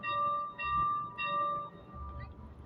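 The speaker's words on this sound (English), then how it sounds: "do you hear that bell ringing?" A bell rings out in a London street, several sustained clear tones struck in succession, moderately near, with low city hum and traffic rumble underneath and no talk.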